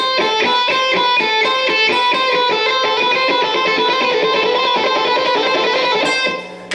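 Rapid, evenly alternate-picked electric guitar notes in repeating groups of six, cycling through a three-note-per-string scale fragment at a steady pace.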